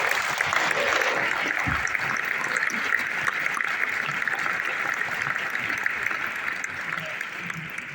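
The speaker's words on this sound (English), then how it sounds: "as we give him a round of applause?" Audience applause honoring a doctor at a presentation event, a steady, even wash of clapping that holds at moderate level for the whole stretch with no voices standing out.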